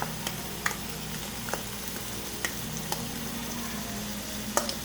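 Diced green pepper and yellow onion saute in a pan with a soft, steady sizzle, broken by a few faint clicks and scrapes of stirring.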